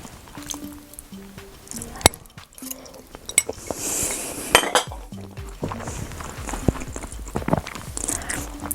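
Fork and cutlery clinking and scraping against a dish while pasta is eaten, with scattered sharp chinks over soft background noise and a brief louder rattling stretch in the middle.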